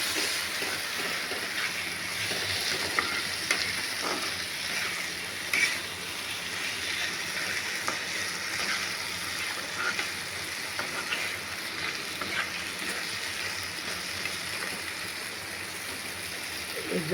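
Potatoes frying in oil in a pan for a Bengali egg curry (dimer jhol), a steady close sizzle with occasional scraping from stirring, continuous throughout with no talk.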